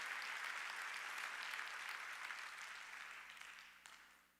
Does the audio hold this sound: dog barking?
no